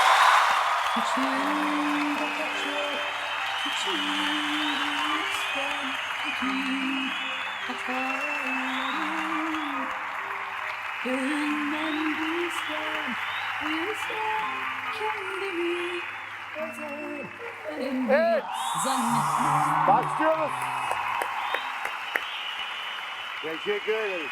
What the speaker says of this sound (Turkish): Alkışlarınızla Beyazıt Öztürk geliyor